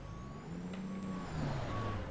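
A running semi truck hauling frozen vegetables idles with a low engine rumble while reversing beeps repeat at a steady pace over it, moderately close.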